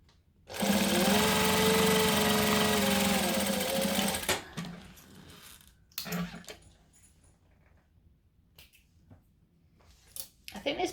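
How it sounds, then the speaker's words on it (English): A sewing machine runs steadily for about four seconds, stitching the two sides of a fabric bag together. Its loud whirring motor is followed by quieter handling clicks and rustles. "going to stitch the two sides of the bag together"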